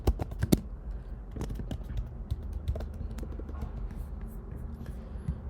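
Keys clatter on a computer keyboard as a message is typed out, an uneven run of light, close taps and clicks with brief pauses, no voices.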